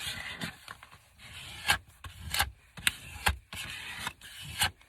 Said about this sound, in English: I'm going to use my card to make sure it's all down